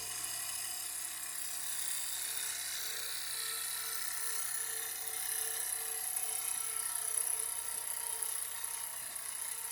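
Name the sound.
Jensen 65EL electric live steam engine running, slowing down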